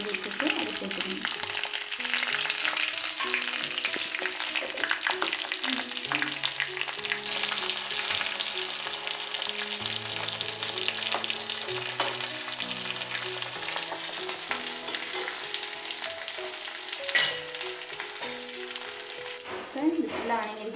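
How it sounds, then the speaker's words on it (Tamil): Ground onion paste fries in oil over spluttered mustard seeds for a Tamil green gram (pachai payaru) kuzhambu, a steady close, dense sizzle running the whole time with faint stirring scrapes and no talk. "பெரிய வெங்காயம் கொஞ்சம் அரைஞ்சி வச்சுட்டு அதை சேர்த்துக்கணும்"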